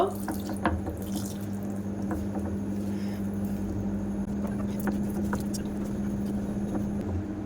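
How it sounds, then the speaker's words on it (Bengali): Water is poured into flour mixed with baking soda and a spoon of white oil for potato naan dough, making a continuous, close trickling splash like a running tap. "একটু জল দিয়ে দেব।"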